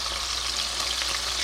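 Burbot nuggets fry in a pan with a dense, steady sizzle and crackle of hot oil, close and continuous with no talking.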